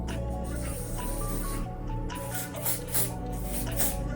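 Hair spray is misted onto a T-part frontal lace wig in a continuous loud hiss that lasts nearly the whole stretch, with brief surges and dips.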